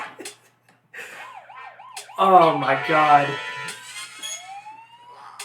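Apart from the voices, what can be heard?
very high squeaky note played on a mini trumpet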